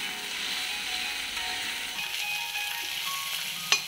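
Steady close sizzle of jute leaves frying in a pan with turmeric and salt, with faint stirring scrapes and a sharp clink near the end.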